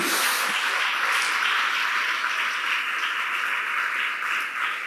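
A church congregation applauds in praise during a Portuguese-language service, a steady dense wash of clapping that holds for the whole stretch without pause, fairly loud and even.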